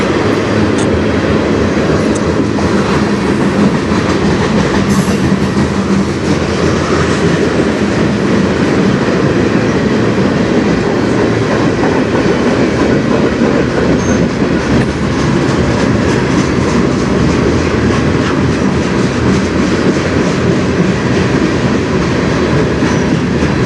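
A CN freight train with open railcars rolls steadily past, a loud continuous rumble with rhythmic clickety-clack of wheels over rail joints throughout.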